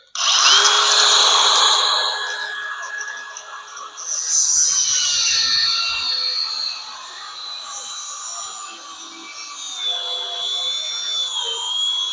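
Battery-powered cutoff wheel grinding through a metal part for a welding project, a loud high whine that holds steady, dips briefly around four seconds, then runs on, close up and alone.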